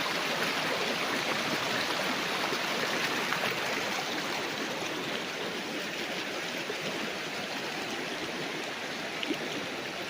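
A river forms a farm lot's boundary in Majayjay, Laguna, and its water flows in a steady, even rushing wash for the full length, with no voices.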